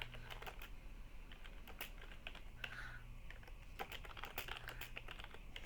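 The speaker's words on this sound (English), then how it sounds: "I don't know why I'm typing." Quiet typing on a computer keyboard, a soft run of close key clicks in an irregular rhythm over a low background hum, with no talking.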